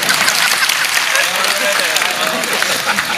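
An audience at a spiritual discourse claps in a continuous dense wash of applause, loud and close, lasting the whole stretch.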